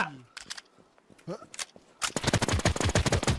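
Rapid bursts of automatic gunfire in the video game WarZ, scattered shots at first, then a dense, sustained volley in the second half, with excited voices talking over the opening.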